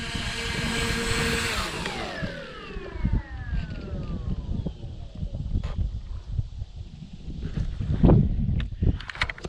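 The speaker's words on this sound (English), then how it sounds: "A fun plane, even though KK and crew get upset every time I fly it." A FLEX QQ Extra 300 RC aerobatic plane flies by, its high electric motor whine sweeping downward in pitch as it passes and recedes, leaving fainter buzzing and rumbling wind noise behind.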